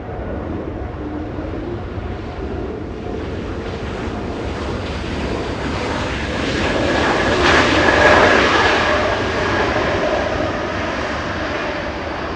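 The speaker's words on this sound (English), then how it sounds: "Air Canada 777 flying in from Montreal, this one an Airbus A220" An Air Canada Airbus A220 jet arriving from Montreal at Los Angeles International Airport, its engine roar building steadily to a loud peak around the middle before easing off slightly, with no voices.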